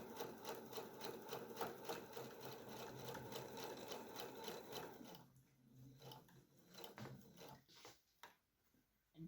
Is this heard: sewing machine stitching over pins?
yes